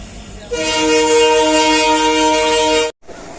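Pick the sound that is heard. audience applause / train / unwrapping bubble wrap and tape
train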